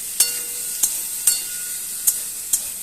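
Potatoes frying in a pan with a faint steady sizzle, punctuated by five crisp, evenly spaced scrapes of a spatula stirring them, close by and without talking.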